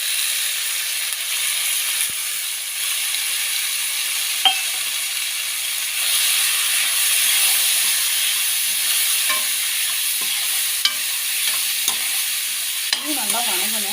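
Onions and spices sizzle and fry in a pan while being stirred, for a chicken varuval curry; a steady close hiss with occasional scraping and clinks of the spoon, no talking.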